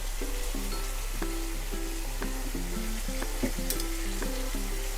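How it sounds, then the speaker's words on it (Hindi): Cream frying with spices in a pan for homestyle chilli paneer, giving a steady soft sizzle with faint crackles and occasional stirring clicks, close and fairly quiet with no talk. "आधा मिनट हो गया है क्रीम को भूनते हुए।"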